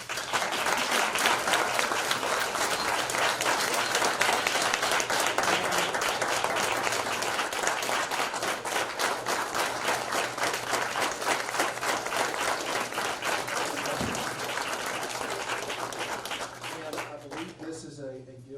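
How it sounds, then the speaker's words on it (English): Sustained, enthusiastic applause from an audience at a youth entrepreneurship investor panel event, many hands clapping densely and evenly for a long stretch before thinning out and fading near the end. "I wish everybody in here would please give her a big round of applause"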